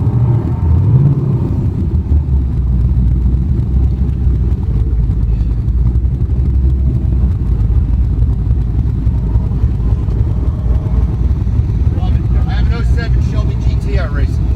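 A car engine runs at a performance driving school as a steady, loud, low rumble that continues under nearby conversation.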